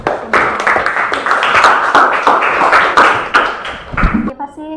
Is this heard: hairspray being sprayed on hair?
no